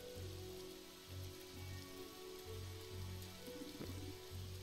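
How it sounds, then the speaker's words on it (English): Steady rain falling in the video game Evoland 2, a soft continuous patter layered over looping game music with low, regular pulses, moderately quiet with no voices. "Ooh, raining."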